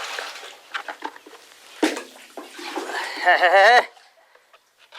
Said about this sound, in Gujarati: આ ફૂલોનું છોડવાનું તો પાણી પાવું પડે